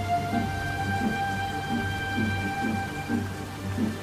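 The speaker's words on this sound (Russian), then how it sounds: "Дожди достигли уже лугов на севере." Storm rain falling over African grasslands and marsh, a constant dense patter of drops with a faint regular low pulsing beneath, steady and moderately loud with no voices.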